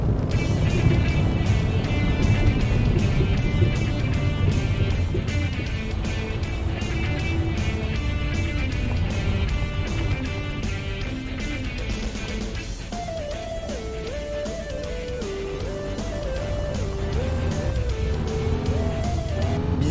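A company car accelerates along the Kirkenes mine road in the video game Euro Truck Simulator 2, its engine a loud, steady drone that climbs and holds through the whole stretch with no talking.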